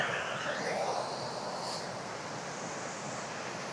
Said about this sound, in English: That'll be the River Garnock flowing from Dalry through to Kilwinning.